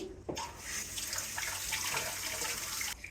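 Small fish are rinsed under a running tap, giving a steady close splash and gush of water that starts abruptly and cuts off near the end, with no talk.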